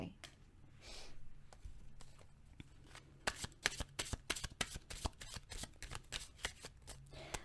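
Tarot cards being shuffled by hand, a rapid run of dry riffling flicks and soft slaps that grows busier and denser in the second half, close and fairly quiet against a faint room background.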